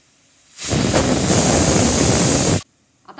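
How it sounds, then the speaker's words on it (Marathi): A large pressure cooker of raw mangoes on a gas stove lets out one loud, close steam whistle that rushes for about two seconds, then cuts off sharply into near quiet. "आपण कुकर गॅसवर ठेवला आहे, आता तीन शिट्ट्या येईपर्यंत आपण थांबूया"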